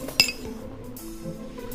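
Drinking glasses clink together in a toast, one bright, sharp chime near the start that rings briefly and fades, followed by quiet room tone with no talking.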